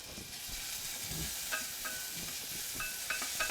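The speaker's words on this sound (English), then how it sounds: "Let's go ahead and add our onion and garlic. All right, and we'll start to saute that." Onion and garlic sauté in olive oil with a steady, broad sizzle, broken by a few brief clicks and scrapes of stirring; no one speaks.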